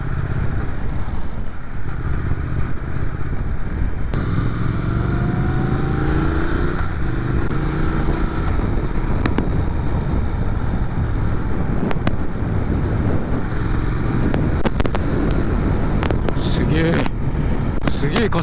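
A Triumph Thruxton 1200RS motorcycle accelerates from the rider's position, its engine note climbing steadily across several gears, mixed with heavy wind rush and a faint muffled voice.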